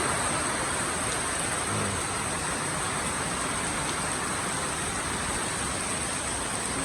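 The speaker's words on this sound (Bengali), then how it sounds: "দেখুন কি পরিমাণ বৃষ্টি হতেছে।" Heavy monsoon rain pours down over a cattle farm, a dense, steady roar of downpour drumming on surfaces for the whole stretch, loud and continuous with no voices.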